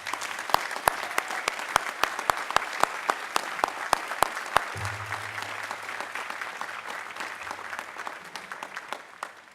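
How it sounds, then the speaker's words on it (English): Commencement crowd at Emory applauding the graduates, opening with distinct, evenly spaced claps that merge into a broad, continuous round of applause heard from a distance in a large space. "offer all of you one more round of applause of congratulations"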